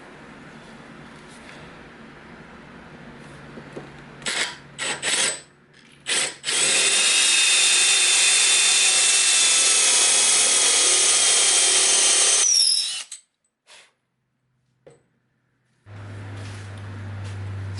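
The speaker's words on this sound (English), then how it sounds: "I'm going to drill a recess for the threads" A power drill whines steadily into wood for several seconds after a few short bursts, drilling a recess for a threaded foot in a bench leg, then stops; a low hum follows.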